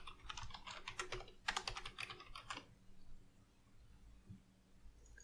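Quick bursts of typing on a computer keyboard as a script name is entered in a Unity C# game project, dense clicking for under three seconds, then only quiet room hiss.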